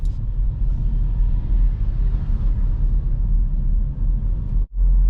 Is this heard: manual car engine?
yes